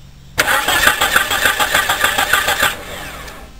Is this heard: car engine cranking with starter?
yes